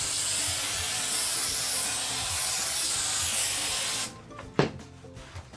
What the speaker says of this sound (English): use my spray mount